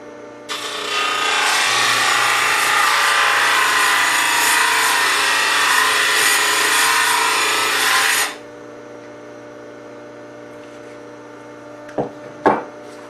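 A Work Sharp 2000KN electric knife sharpener grinding a blade gives a loud, steady electric whine for about eight seconds, then cuts off abruptly, followed by a low hum and a couple of sharp clicks.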